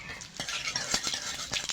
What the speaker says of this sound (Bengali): আমি কটা রাঁধুনি ফোড়ন দিয়ে দেব